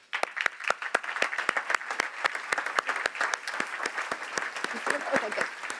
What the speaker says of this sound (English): Please recognize these businesses with a round of applause.